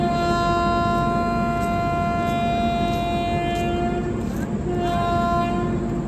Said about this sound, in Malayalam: നമ്മുടെ എറണാകുളം വേളാങ്കണ്ണി വീക്ക്ലി എക്സ്പ്രസ് അങ്ങനെ എറണാകുളം ജംഗ്ഷനിൽ നിന്ന് രാത്രി 11:50 പുറപ്പെട്ടിരിക്കുകയാണ്